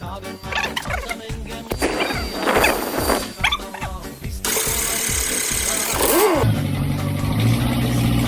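Ford Transit diesel engine cranking in rapid rhythmic chugs, then catching and running loudly at a steady idle, all close by.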